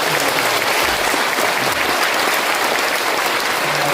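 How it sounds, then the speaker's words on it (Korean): A church congregation claps loudly and continuously, a dense, steady burst of applause filling the hall without pause. "우리 하나님께 큰 박수로"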